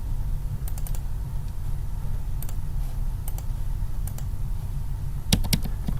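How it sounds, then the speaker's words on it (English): Keys on a computer keyboard are struck in sparse, light clicks spread across a few seconds, with a quick cluster near the end, all faint against a steady low hum. "I'm going to type in the word text"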